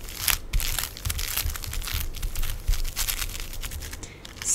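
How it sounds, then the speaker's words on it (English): Plastic wrap crinkles and rustles as it is pulled over a block of cheese, a dense run of close, crisp crackles with occasional sharper bursts, alone without talk. "And use this plastic wrap to cover the cheese."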